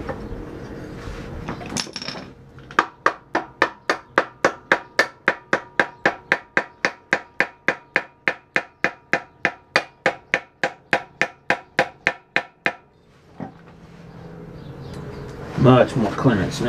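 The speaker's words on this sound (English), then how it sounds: "So now I'm going to pop the pulley on." A hammer strikes metal over and over to drive a pulley onto a 1776 VW Bug engine, with about thirty evenly spaced loud blows. A voice talks briefly before the hammering starts.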